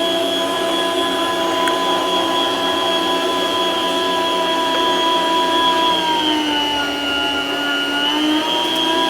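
A Borlebbi electric food slicer runs while cutting, giving off a loud, steady motor whine with a bright, tonal edge and a slight drop in pitch near the end.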